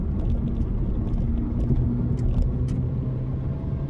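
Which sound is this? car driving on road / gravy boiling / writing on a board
car driving on road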